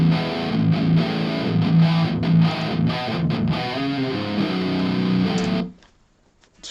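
Heavy distorted 7-string electric guitar through a Marshall cabinet loaded with Vintage 30 speakers, playing thick chugging riffs with sharp rhythmic stops, loud and close, then cutting off abruptly into near silence.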